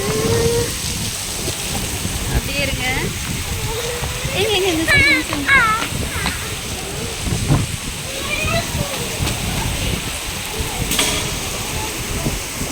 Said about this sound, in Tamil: ஆனால் அப்படியே காற்றோடு சேர்ந்து மழையும் செம்மையாக அடிக்குது